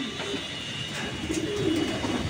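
A red checker racing pigeon coos in soft, low rolling phrases close by, rising slightly louder in the second half over a faint background hiss.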